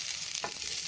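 Onions cook in a pan with a steady bright sizzle, and one brief scraping stir passes through the hiss midway.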